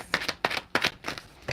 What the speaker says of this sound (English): I try not to shuffle so crazy.